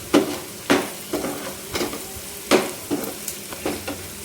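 Chicken being stirred with garam masala in a pan for a restaurant-style chicken majestic, spoon scraping in about eight distinct strokes over a low sizzle, close and clear with no talk.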